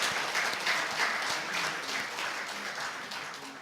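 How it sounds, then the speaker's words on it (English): An audience claps to welcome a speaker on stage, a sustained and moderately loud round of applause with steady crackling hand claps throughout. "Please welcome with a thunderous round of applause, Pujya Swami Brahmvihari."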